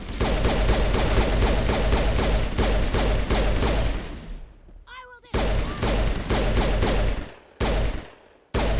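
Enemy gunfire from a distance in the video game Mass Effect, dense rapid automatic fire that pauses briefly, resumes, and breaks off in abrupt cuts, loud and continuous, with a short voice-like warble in the lull.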